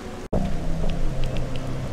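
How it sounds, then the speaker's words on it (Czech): Steady rain with a low rumble of thunder in the Blair Witch video game, a loud continuous wash of rainfall broken by a brief dropout near the start, no voices. "Prší a je bouřka."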